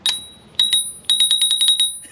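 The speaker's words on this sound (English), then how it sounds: "What's this little lever? It's a bell." A small lever bicycle bell on a 1Up belt-driven eBike rings close and loud, with a single ding, another ding, then a quick run of about eight rapid dings.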